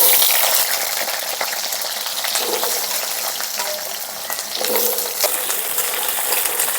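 Potatoes fry in hot oil in a kadai, a loud close broadband sizzle that crackles steadily throughout with small bursts and scrapes as the pieces shift, no voices.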